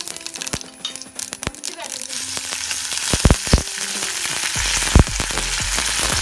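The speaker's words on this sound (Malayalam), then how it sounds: "കടുക് വറുക്കാൻ വേണ്ടുന്ന സാധനങ്ങൾ: 2 സ്പൂണ് എണ്ണ," Mustard seeds and two cut dried red chillies crackle and sizzle in spoonfuls of hot coconut oil for a chutney tempering, with sharp popping bursts over a steady frying hiss and a few metallic clinks.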